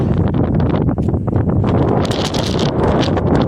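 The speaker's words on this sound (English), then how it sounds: "Quite windy up here at the summit." Strong, steady wind buffets and roars across the microphone at a mountain summit on the Appalachian Trail, with gusty rushes and rustling, no voices.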